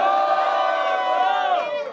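A crowd at a rap battle erupts in loud, sustained cheering and shouting, a dense wall of voices that holds steady for two seconds before easing off slightly at the end.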